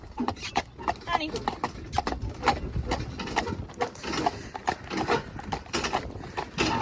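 A miniature horse walks and trots on a road, giving a steady run of fairly close clip-clop hoofbeats, with people talking over it and birds in the background.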